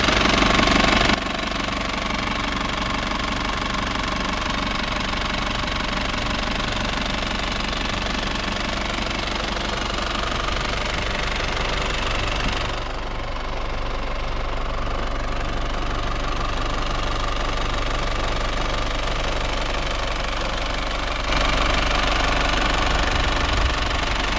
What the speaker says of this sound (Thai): ไปฟังเสียงเครื่องยนต์จากด้านนอกดูนะครับ